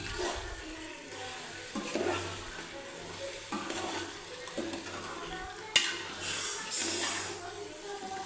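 Chicken marinated in yogurt and chili powder is stirred for homemade biryani, giving repeated wet scraping and squelching strokes against the pot at close range, with a soft sizzle underneath and a voice speaking quietly at times.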